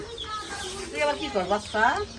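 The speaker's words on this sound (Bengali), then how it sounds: "ভাবি দুইটা মুরগি কাটতেছে" Two chickens are being slaughtered at home, letting out a few short, strained clucks and squawks at close range that rise in bursts over low background noise.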